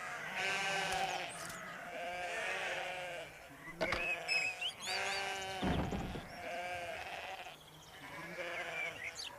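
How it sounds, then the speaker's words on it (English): Sheep bleating in a field, several overlapping calls rising and falling close by, with a few sharp higher cries standing out over the flock, no talking. "A field full of sheep."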